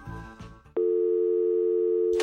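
A telephone call attempt fails: after a short burst of tones, a steady loud busy tone holds for over a second before cutting off, close and alone.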